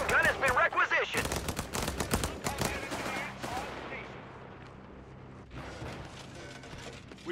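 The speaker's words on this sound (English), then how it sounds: "Heavy machine gun has been requisitioned!" Heavy machine gun fire in the Company of Heroes 3 battle game, a dense burst of rapid shots up front that thins into scattered bursts and mechanical clatter, with voices calling out over the fighting.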